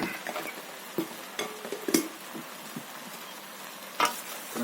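A quick stir of vegetable cheese pasta in a pot, with a few soft scrapes and clinks of a spoon against the metal sides over a quiet background, close by and with no voices.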